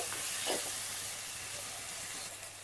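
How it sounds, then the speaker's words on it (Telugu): Tomatoes frying in a pan on the stove for a paneer curry, a soft, continuous sizzle with light stirring scrapes near the start, close but quiet and with no voices. "టమాటా కూడా వేసి మొత్తం టమాటాలన్నీ మగ్గేంత వరకు మనం వేయించుకోవాలి."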